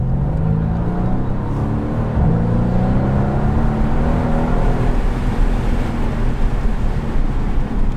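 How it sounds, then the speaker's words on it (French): Mercedes C63 AMG engine heard from inside while driving with the sunroof open, a close continuous rumble that rises and settles; distinct exhaust pops are not clearly picked out. "les retours à l'échappement, etc., c'est au top"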